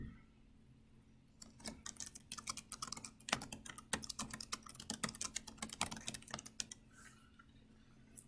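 Typing on a computer keyboard: quiet, close key clicks in irregular runs, starting after a brief pause and continuing almost to the end, with no one talking.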